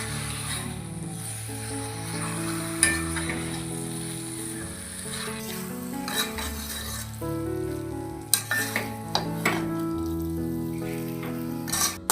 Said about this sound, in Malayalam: നന്നായിട്ട് ഈ മസാലകളൊക്കെ പുരണ്ടിരിക്കുന്ന രീതിയിൽ നമുക്ക് ഈ ചിക്കനെ ഒന്ന് ഇളക്കി യോജിപ്പിക്കാം.